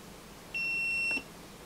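An electronic circuit driven by timed pulses lets out a single steady high beep lasting about half a second, clear over a faint hiss, with no talking.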